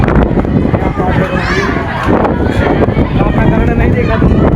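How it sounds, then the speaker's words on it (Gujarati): Strong wind on the hilltop at Pavagadh buffets the microphone in a loud, continuous roar with gusty surges throughout, and no clear voice rises above it. "પવન એટલો ખતરનાક આવે છે"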